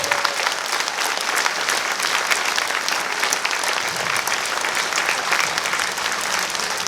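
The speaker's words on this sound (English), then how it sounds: "can we please give them a massive round of applause?" Large audience applauding veterans of World War II at a military appreciation gathering aboard a Carnival cruise ship, steady dense clapping sustained loud and close throughout.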